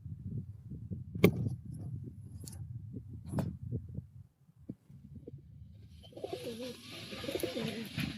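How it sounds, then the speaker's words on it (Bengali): A pigeon coos in soft, low, repeated calls close by, with a few sharp clicks in between and a hissing noise building toward the end. "দুবার পয়রাটা ডাকতে লেগেছে"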